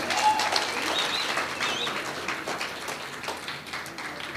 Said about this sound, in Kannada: ಜೋರಾಯಿನ ಕೈ ಚಪ್ಪಾಳೆ ದೊಟ್ಟುಗು